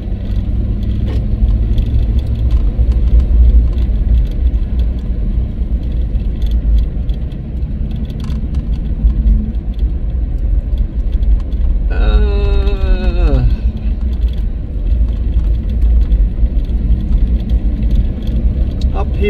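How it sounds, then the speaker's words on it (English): A four-wheel-drive car on a slippery road on the Hatcher Pass trip, giving a steady, loud, low rumble from inside the cabin. A brief rising whine cuts in partway through. "Ooh, I better put this in four-wheel drive. I'm sliding all over."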